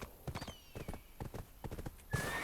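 Horse hooves clip-clop in steady, rhythmic bursts on a mount in the online role-playing game Black Desert Online, close and clear, with a brief whinny-like tone partway through and a brighter burst of game sound near the end.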